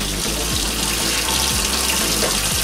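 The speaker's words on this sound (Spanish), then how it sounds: "lo aceleramos metiéndolo debajo del grifo con agua fría antes de abrirlo" Cold tap water pouring from a kitchen faucet over a pressure cooker holding dulce de leche, a loud continuous splashing rush with a few soft knocks of metal beneath it.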